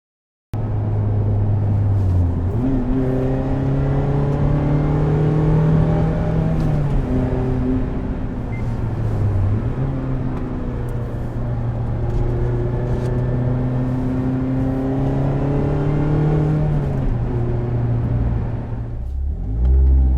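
Mazda Miata ND fitted with a Goodwin Racing RoadsterSport SuperStreet exhaust, its engine droning loudly as revs climb and fall through several gear changes, steady and close, with no talk.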